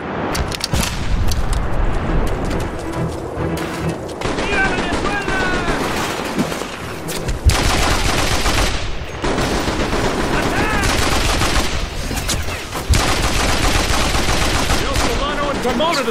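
Dense, continuous gunfire and explosions from the video game Mercenaries 2: World in Flames, including AK-47 fire. Loud overlapping bursts continue throughout, with shouted voices mixed in.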